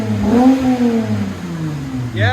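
A 2008 Lexus IS 250 with a 2.5L V6 and a Megan Racing exhaust revs up and falls back in a short, smooth, close-up rise and drop, with a brief trailing note at the end.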